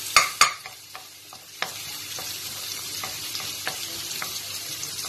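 Garlic and onion frying in a pan for fried rice, a soft steady sizzle with a few loud scraping clanks at the start and then light periodic taps of a spatula stirring.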